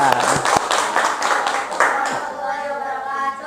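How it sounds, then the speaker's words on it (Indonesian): Audience clapping during a teaching performance session, a burst of brisk hand claps that thins out after a couple of seconds into a lingering tone. "kasih tepuk tangan dulu hadiahnya"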